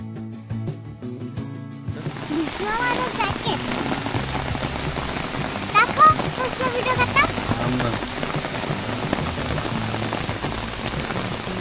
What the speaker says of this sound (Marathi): पावसामुळे परत एकदा थांबावं लागते आम्हाला.